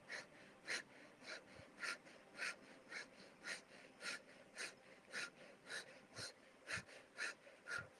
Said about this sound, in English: Breathing in fully and completely, holding on to that breath within your root chakra center.